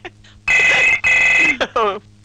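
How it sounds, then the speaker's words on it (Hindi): A telephone rings indoors in two loud, close bursts, followed by shorter electronic trills, with faint background voices between the rings. "फोन।"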